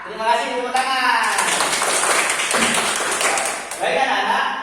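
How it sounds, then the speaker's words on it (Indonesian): Children in a classroom break into a couple of seconds of dense group clapping, with a voice speaking just before and after. "Terima kasih, tepuk tangan."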